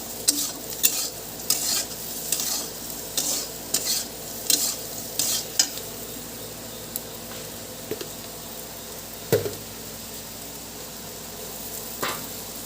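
Masoor lentils stirred and dry-fried in a pan before cooking dal, a series of sharp scraping stirring strokes over a soft sizzle, then quieter frying with a few later scrapes, no talk.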